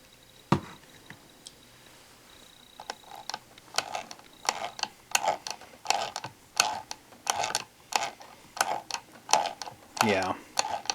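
The non-winding motor of a phonograph is turned by hand without its crank, giving a near, regular series of mechanical clicks and ratcheting ticks that grow busier as it turns, with no talk over it.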